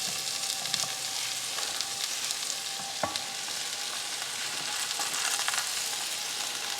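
Vegetables and bok choy for lo mein sizzle in a hot pan, a steady close-up frying hiss with occasional sharp pops, and no talking.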